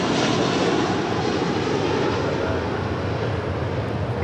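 A steady, loud roar of Airbus jet engines at LAX, a broad sustained rumble that holds evenly throughout with no pauses or talk over it.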